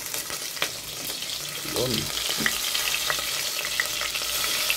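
Garlic, chili and ginger sauté in a hot pan with a steady, close sizzle and occasional stirring scrapes. A brief voice speaks near the start.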